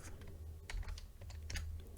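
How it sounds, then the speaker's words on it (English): Rapid, uneven keystrokes on a computer keyboard clatter close and clear for two seconds, with no voices over them. "I'm looking at the keyboard to type."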